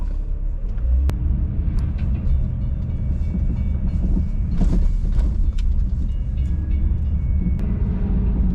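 A train passes nearby in winter traffic, a steady low rumble with metallic creaks, squeals and clanks rising midway, heard from close by without talk.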